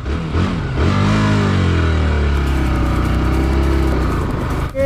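A TVS motorcycle engine revs steadily and loudly up close, holding a sustained drone that rises slightly before easing off at the end.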